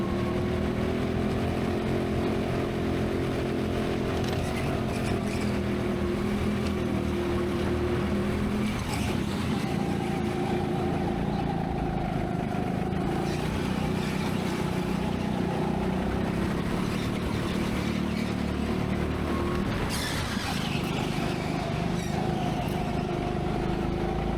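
A petrol racing kart engine drones loud and close through the last lap of a local final race in Birmingham, its pitch rising and falling steadily through gear and throttle changes, with no voices over it.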